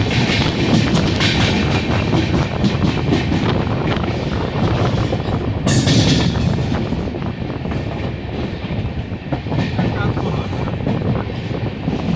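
A Kamakhya–Gaya Express rolls along the rails with a steady loud rumble and rhythmic clatter throughout, mixed with wind buffeting and brief muffled voices in the carriage.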